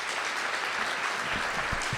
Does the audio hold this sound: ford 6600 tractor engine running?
no